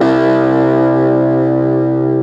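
An electric guitar through a small Fender Mini Deluxe amp rings out a single sustained chord with light saturation and a slight chorus-like shimmer, loud and close before cutting off abruptly.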